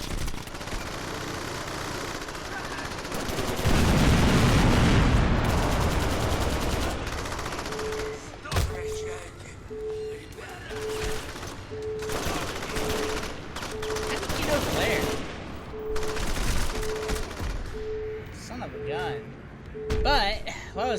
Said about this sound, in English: what a great way to start off this part of the map with freaking gunshots